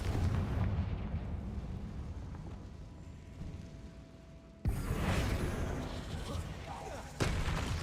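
Confringo fire spell blasts in the PS5 game Hogwarts Legacy, a dense booming roar that fills the whole clip, jumping louder twice with fresh explosive bursts, with a voice talking underneath.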